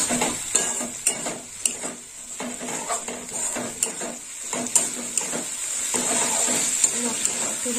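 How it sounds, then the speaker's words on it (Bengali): Spices with red chili powder sautéing in a pan for Bengali jackfruit and prawn curry, a steady sizzle under repeated scraping and stirring strokes with occasional utensil clinks against the pan. "এবার একটু কষে নেবো ভালো করে।"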